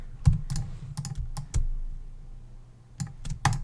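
Computer keyboard keys pressed as modifier shortcuts (shift and option) for copying and pasting in InDesign, a scattered series of sharp clicks in short bursts, close and fairly loud, with no talk.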